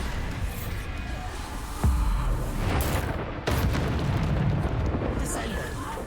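Bombarda blasting spell explosions in Hogwarts Legacy combat, heavy booming bursts over dense game noise, with two sharp impacts standing out; a voice calls spell names between them.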